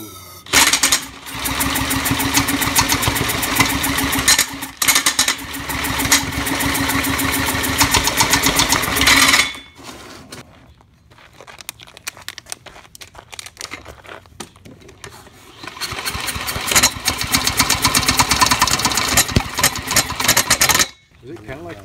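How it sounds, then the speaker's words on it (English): A small engine with a hole in it runs on fuel poured from a bottle straight into the intake. It sputters and chatters loudly in bursts, dies away in the middle, then briefly picks up again before cutting out. "we got this sweet redneck idea here to use a little bottle dump fuel straight in the intake, and it seems we've got to run a little bit"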